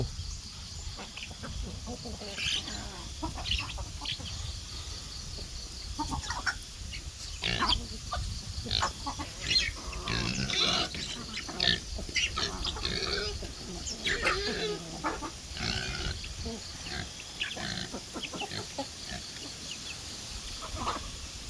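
A lone orphaned pig in a farm pen grunts and snuffles in irregular bursts, moderately close, with chickens clucking nearby and insects chirring faintly in the background.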